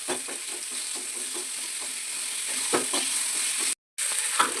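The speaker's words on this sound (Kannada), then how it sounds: "ಈರುಳ್ಳಿನ ಚೆನ್ನಾಗಿ ಫ್ರೈ ಮಾಡಿಕೊಂಡು" Chopped onions fry in a pan, giving a steady close sizzle with soft scraping stirs, and a brief dropout near the end.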